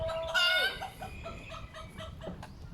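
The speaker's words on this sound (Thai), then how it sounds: "เสียงไก่นี่เยอะมากเลยฮะไก่" Chickens and a rooster cluck and call loudly nearby on temple grounds, with one strong squawking burst early followed by scattered softer clucks against outdoor ambience.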